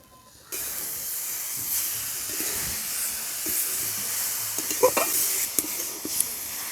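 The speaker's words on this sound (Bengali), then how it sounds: "নারকেল খেজুর গুড় দিয়ে এইভাবে আমি পুরটা করে নিচ্ছি।" Grated coconut and date jaggery are stirred in a hot pan, with a steady sizzling hiss throughout and occasional scraping strokes of the spoon near the end.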